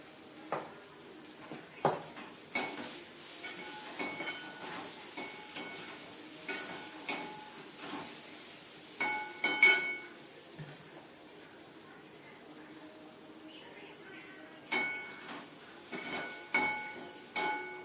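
Mini idlis are tossed with podi and oil in a pan, giving scattered light metallic clinks and scrapes that come in short bursts with quieter pauses between them.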